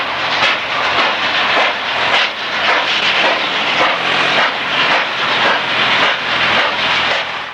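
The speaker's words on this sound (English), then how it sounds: "Showing off her trademark sharp exhaust and with her trailing truck booster engine hammering away" Rapid, rhythmic chuffing of Frisco steam locomotive 1522 working hard up a grade, sharp exhaust beats repeating steadily with its trailing truck booster engine hammering over a loud rumbling train, with no voices.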